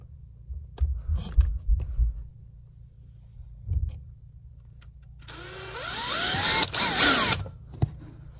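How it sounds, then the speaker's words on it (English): An electric drill bores pilot holes for aluminum pedals inside a Fiat 500 Abarth footwell, a rising whine running for about two seconds near the end after a few short knocks and low rumble. "And now I'm gonna drill my holes. Okay, same as before. Start with a pilot hole."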